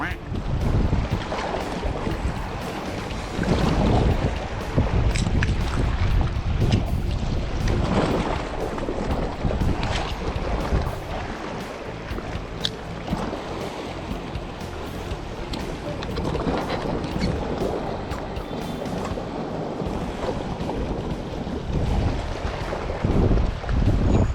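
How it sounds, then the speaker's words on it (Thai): Strong, constant wind roars and buffets the microphone aboard a small fishing boat out at sea off Bang Saphan, with water noise underneath and occasional voices. "ลมยังแรง"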